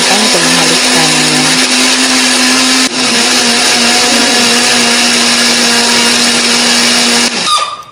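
A kitchen blender grinds chili, shallots, garlic and turmeric with a little water or oil into a spice paste, a loud continuous motor whir that runs steadily for most of the stretch before cutting off near the end.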